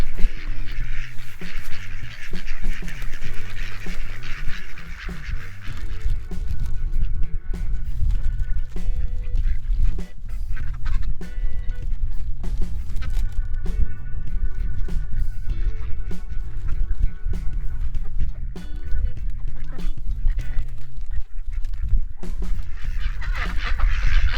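Ducks honking and calling repeatedly, loud and close, over steady outdoor background noise with occasional bursts of activity.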